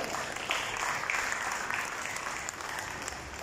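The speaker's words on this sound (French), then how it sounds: "Applaudissements" Steady audience applause at an opening-night event for a digital arts festival in Mauritius, a dense wash of clapping that holds evenly throughout with no talk over it.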